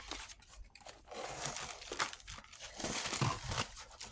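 Paper sheets crinkling and rustling as they are handled and slid back into an envelope, a close series of irregular crackles and crumples lasting a few seconds, no talk.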